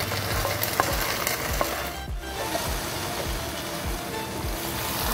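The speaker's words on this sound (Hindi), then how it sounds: "देखिए इसे हम अच्छे से मिक्स कर लेंगे।" Creamy chicken pie filling is stirred in a hot pan, giving a steady soft sizzle with repeated scraping and sloshing strokes of the spoon, close and continuous.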